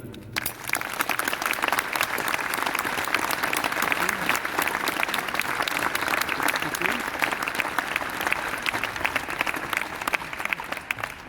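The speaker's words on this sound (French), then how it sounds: "je vous demande de l'applaudir" Sustained, steady applause from an audience at a Grenoble transition-towns gathering, given in tribute to a departed woman, with dense clapping throughout and no pause.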